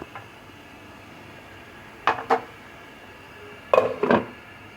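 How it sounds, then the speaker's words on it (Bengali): Metal pan lid lifted and set down twice while taro and prawns cook, a pair of close clinks near two seconds in and another pair near the end, separated by quiet kitchen background. "এখন ঢাকনাটা খুলে দেখব কতটুকু হয়েছে"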